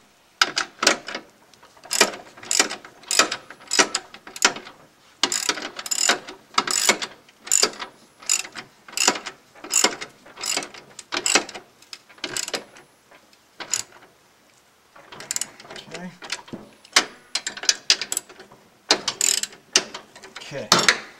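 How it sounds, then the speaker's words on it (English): Socket ratchet clicking in quick repeated bursts while tightening spindle bolts on a riding mower, close and loud, with short pauses between runs of clicks. "And I'll just go ahead and finishing tightening them down."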